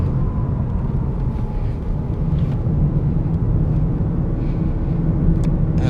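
A Toyota Yaris GTI driven at pace on a race track gives a steady, loud engine roar and low rumble from inside the car, with no breaks in the sound.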